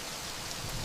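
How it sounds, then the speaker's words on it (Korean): Dense, steady rain hammers down on a roof in a continuous broadband wash with no breaks, loud and close, no voices. "지붕을 때리는 빗소리가 들리기 시작하더니 순식간에 양동이로 퍼붓는 듯한 장대비가 쏟아지기 시작했지요"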